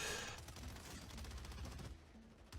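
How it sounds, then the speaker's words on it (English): Sniper gunfire in Warzone 3 cracks out from across the way as a run of distant shots spread over a couple of seconds, blended into steady game background noise. "There's a sniper shooting at her from across the way"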